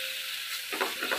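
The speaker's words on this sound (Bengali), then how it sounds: "মশলাটাকে ভালো করে আমি কষে নেব।" Onion and ground spices (bay leaf, cumin, coriander, turmeric, chili powders and ginger paste) fry in a pan with a little water, giving a steady close sizzle with short bursts as the mixture is stirred.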